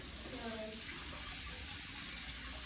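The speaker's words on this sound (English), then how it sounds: "Wash it very well," Faint running tap water pours steadily over vegetables such as scallions being washed in a kitchen sink, a soft continuous hiss heard alone.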